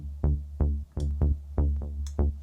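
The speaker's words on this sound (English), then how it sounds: "It's the 209 heavy Moog bass." Heavy Moog Bass preset 209 from the Silent synth, played dry with no processing: six rich, buzzy bass notes in a steady rhythm, each striking hard and decaying quickly, loud and alone.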